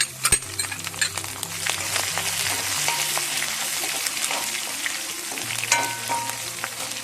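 Ginger, garlic, green chili and curry leaves frying in oil for a pickle, stirred until brown; a loud, steady close sizzle with occasional utensil taps and scrapes, and no speech.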